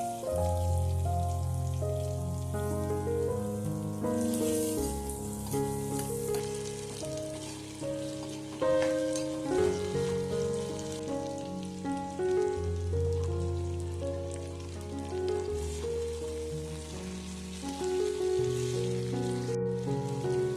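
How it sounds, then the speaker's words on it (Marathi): Potato pieces sautéing in a pan with turmeric and curry leaves give an even, rain-like crackling sizzle throughout, heard beneath steady background music. "आता बटाट्याच्या फोडी घालूया आणि ह्याला चांगलं परतून घेऊया."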